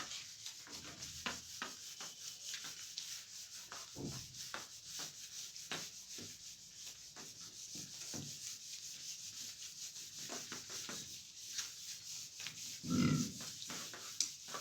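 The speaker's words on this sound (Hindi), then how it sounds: "एक मिनट मैं बोर्ड को रब करता हूं" A classroom board being erased with a duster during a biology lecture, giving steady scrubbing rubs in a repeated back-and-forth rhythm, fairly near, with no talk over it and one louder thump near the end.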